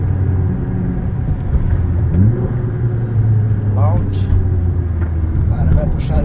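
Nissan GT-R engine accelerating with a steady low rumble that builds slightly, heard close by while people talk excitedly over it.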